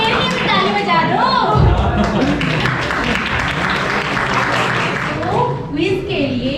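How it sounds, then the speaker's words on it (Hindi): Seminar audience at an institute applauding, a dense wash of clapping that swells and holds for several seconds, with chatter and voices mixed underneath. "आज मेरे लिए भी ताली बजा दो।"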